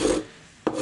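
A hand file rasps across sheet metal in two short strokes, a close, gritty scrape, a pause, then a second scrape.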